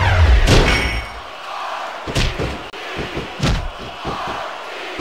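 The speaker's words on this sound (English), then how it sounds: "This superstar is all fired up, and so is this capacity crowd." An arena crowd roars in the Smackdown Vs Raw 2006 wrestling video game, loud swells of cheering mixed with slams and thuds from the ring, with commentary voices over the top.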